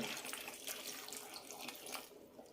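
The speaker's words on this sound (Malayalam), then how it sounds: "ഒരു കപ്പ് വെള്ളം ഒഴിക്കുന്നുണ്ട്." Water poured from a cup into a pan while cooking a brinjal and potato kadayal, a steady splashing, trickling stream that sounds close and continuous throughout, with no talk.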